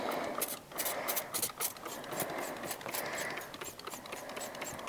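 A rapid, hissing spray of tire shine pulses in quick bursts close by, with faint clicking mixed in as the nozzle fires repeatedly.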